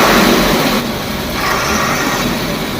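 A Tata BS4 bus engine runs steadily and loud throughout, a continuous broadband rumble with no speech over it.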